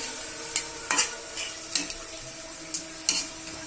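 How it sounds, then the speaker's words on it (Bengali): Boal fish is stirred with spices in a frying pan, with a spatula scraping and knocking about six times over a steady soft sizzle. "মাছটা কষাই দিতেছি যাতে মশলা দিয়ে লবণ মাছের ভিতরে ঢুকে"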